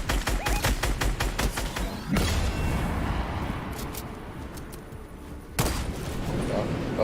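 Sniper rifle exchange in a video game: a dense burst of sharp shots, then single loud cracks at spaced intervals amid a steady background rumble, with a voice talking under it.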